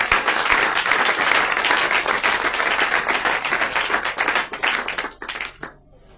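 Loud, sustained applause from a large gathering at a Passover conference acclaiming Jesus Christ, dense steady clapping for about five seconds before thinning out and fading to near silence.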